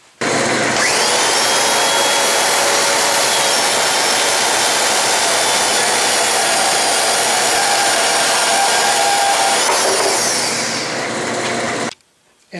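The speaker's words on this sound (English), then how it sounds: "sawing off using a portaband, machine running in reverse" A portable band saw (portaband) cuts off metal stock held in a lathe running in reverse, giving a loud, steady, continuous grinding whine for about eleven seconds before stopping abruptly.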